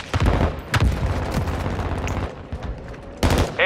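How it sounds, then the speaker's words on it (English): Hostile mortar strike in Call of Duty: Modern Warfare II, with sharp close blasts and rattling bursts of battle fire in quick succession, loud and punchy, easing slightly before another heavy impact near the end. "hostile mortar strike near your position"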